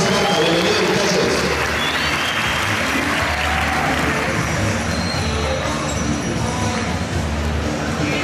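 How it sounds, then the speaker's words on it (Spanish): Loud, dense applause and crowd roar for the Esparta volleyball team at the opening ceremony of a youth volleyball circuit, continuous and full throughout, with voices blended into the noise. "Fuerte el aplauso para Esparta."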